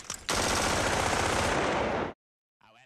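Sustained automatic gunfire from the war film Full Metal Jacket, a loud continuous burst of rapid rounds lasting about two seconds after a brief lead-in, then cutting to near silence with a faint murmur at the end.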